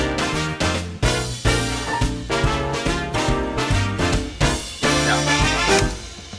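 Fully electronic mock-up of a big band jingle arrangement, with punchy synthesized brass hits and a steady rhythm section playing loud and continuous, the sampled horns standing in for live players.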